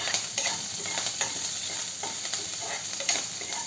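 Green chillies and chopped ginger hit hot tempering oil for a cabbage curry, giving a steady close sizzle and crackle with stirring scrapes and small pops throughout.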